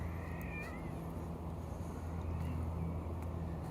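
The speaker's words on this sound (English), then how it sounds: "It's that crazy cat screaming over there." Outdoors near a backyard pond, a cat screams in a few wavering, drawn-out yowls from a distance, faint over steady wind and low outdoor rumble.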